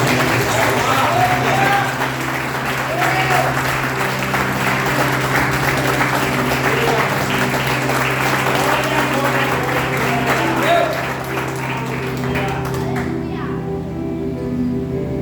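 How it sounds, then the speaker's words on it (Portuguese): A church congregation claps for the Lord during a worship service, dense applause mixed with children's voices and music, holding steady before cutting off near the end. "dá uma salva de palmas para o Senhor"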